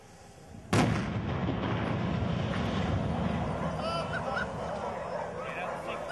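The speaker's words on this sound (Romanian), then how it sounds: "Pentru a-l demola, pirotehniștii au folosit 8 kg de explozibil, însă nu a fost suficient." Explosive charges go off at the base of a 70-metre tower being demolished in Târgu Jiu, a sudden loud boom followed by a long, steady roar of debris and rumble, with faint honks or bird calls in the background.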